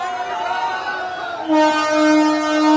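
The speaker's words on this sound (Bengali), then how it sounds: "আমাদের ট্রেন ছেড়ে দিল" The Amghata–Krishnanagar City local pulls out of Amghata station on its inaugural run, a fading horn tone followed by a louder, steady second horn blast that holds to the end.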